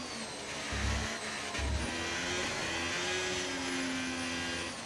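A Porsche Formula 1 car engine in the racing game F1 25 drones at a steady high pitch with a couple of low thumps early on, loud and continuous, with no talk.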